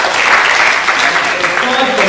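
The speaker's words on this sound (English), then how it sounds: "Clap for them," An audience applauding students at a celebration of girls in ICT, loud close clapping mixed with voices, over a brief moment.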